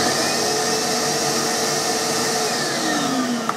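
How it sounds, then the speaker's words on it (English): A workshop dust extraction vacuum runs steadily after being switched on by remote, a loud continuous whooshing roar holding even throughout with no talk. "You plug the vac into here, pair it with the remote control, and you can then use the remote"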